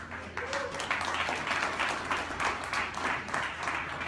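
Applause plays from a video, a steady, moderately loud wash of many hands clapping over a low, constant hum, lasting throughout.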